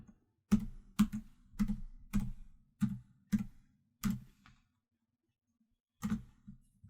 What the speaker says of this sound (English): We can type anything here, can't we?